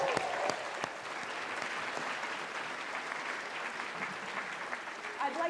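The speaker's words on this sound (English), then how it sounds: "so give yourselves a round of applause." Audience at the BAFTA Scotland Awards 2024 ceremony giving a sustained round of applause, a thick continuous hall-filling clatter of many hands with a few sharper claps near the start.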